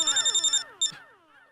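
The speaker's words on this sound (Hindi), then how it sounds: "फोन उठाइए" A telephone ringtone in a Hindi sitcom, a loud electronic trill in quick pulsing bursts, followed by a short second ring that cuts off.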